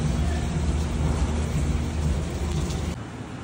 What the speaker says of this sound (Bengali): ঝমঝম করে বৃষ্টি হচ্ছে, আর বিদ্যুৎ চমকাচ্ছে